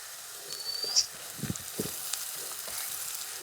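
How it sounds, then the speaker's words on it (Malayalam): Ginger garlic paste sizzles steadily in hot oil for a fish curry, a soft continuous frying hiss with a few faint stirring knocks and clinks close by. "ഇഞ്ചിയും വെളുത്തുള്ളിയും ഒക്കെ നല്ല പോലെ ഇങ്ങനെ ചുമന്ന് വരണം കേട്ടോ."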